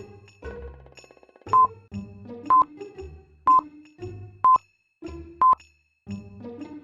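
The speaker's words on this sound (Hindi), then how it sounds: "मेहुल बैंक को फोन करके इन्फॉर्म कर देता है" Telephone keypad tones beep one after another at a steady pace, about five in a row, with soft clicks and a background line hum.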